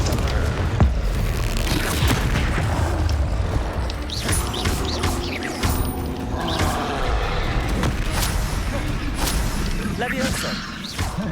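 Confringo fire blast spell in the Hogwarts Legacy video game, heard as repeated booming bursts and whooshes among mechanical clanks and creaks of combat, fairly loud and busy throughout, with a voice calling spell names in the mix.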